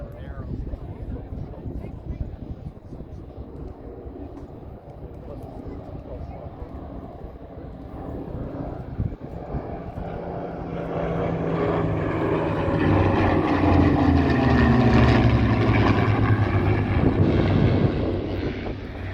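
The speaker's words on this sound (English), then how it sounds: "Let's listen one more time to the sound of those beautiful inline engines." A loud World War II P-51 Mustang and P-63 Kingcobra inline engine roar builds steadily and peaks before easing slightly, with a low droning hum and wind rushing over the microphone.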